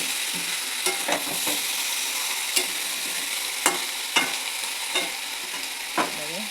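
Jackfruit curry with green chili being stirred in a pan, a soft steady sizzle broken by several distinct spoon scrapes and taps, with no talking.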